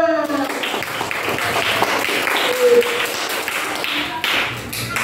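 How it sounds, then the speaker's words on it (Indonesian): A classroom of students bursts into applause: dense, close clapping with tapping hits and a brief voice at the start, fading slightly near the end. "Tepuk tangan untuk kalian semua."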